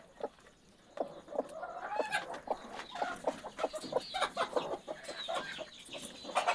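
A broody hen clucks repeatedly up close while shifting and settling onto her eggs, giving soft, irregular murmuring clucks that grow busier and louder as she settles.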